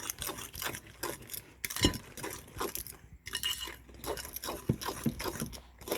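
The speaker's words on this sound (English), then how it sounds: "And I'm just going to stir that in." Spoon stirring ingredients in a bowl for plantain bread, giving repeated scraping clinks and rubs against the bowl at close range with no talk.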